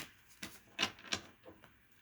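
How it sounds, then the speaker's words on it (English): Tarot cards being shuffled by hand, a few quick riffling, papery bursts spaced unevenly over two seconds, close and fairly quiet with no talking. "One more shuffle here for my Capricorns."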